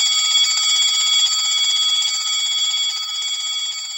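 An electric bell rings steadily inside a glass bell jar in a classroom science demonstration, a continuous bright metallic ringing, close and loud, that fades slightly toward the end.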